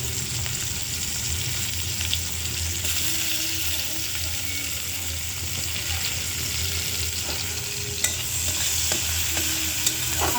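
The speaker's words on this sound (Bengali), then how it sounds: "এখন পেঁয়াজটা একটু ভাজা ভাজা করে নেব।" Onion frying in a pan on a gas stove while being stirred, a steady close sizzle with scraping utensil strokes running continuously throughout, no talking.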